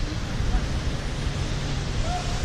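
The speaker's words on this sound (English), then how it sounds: "So windy." Strong wind roars outdoors beside City Hall at Civic Center in San Francisco on a cold, cloudy day, buffeting the microphone as a steady, loud rumble that fills the whole moment.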